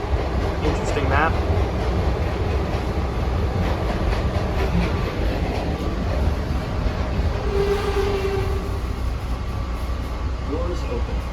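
A PATCO Speedline train pulls out of a station with a steady rumbling roar and rail clatter filling the whole stretch. A few short voices come through now and then.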